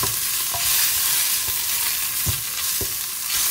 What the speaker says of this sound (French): Je mélange mes épices.